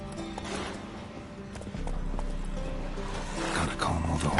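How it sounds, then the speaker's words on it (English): Horses in The Witcher video game clop their hooves and give short neighs and snorts in a stable, several brief calls scattered over a continuous low background. "Gotta calm all the horses before they wake the guards."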